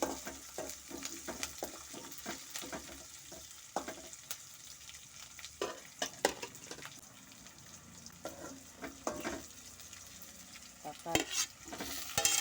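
Onions and green chillies are stir-fried in a pan for a field crab gravy, with repeated scraping spoon strokes over a soft, continuous sizzle, fairly quiet and close, with no talking.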